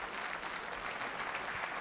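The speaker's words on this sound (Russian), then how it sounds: "Аплодисменты ему." Steady, dense clapping from a large studio audience, continuous throughout with no voices standing out.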